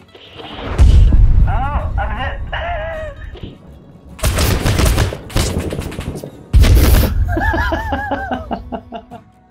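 Mortar blasts and bursts of gunfire in the video game Six Days in Fallujah arrive as loud booms and rattling volleys, with people talking and laughing over them.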